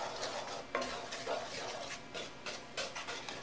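A spoon stirs lumps out of chocolate in a pot, giving soft repeated scraping and clinking strokes with small metallic taps, fairly close and quiet.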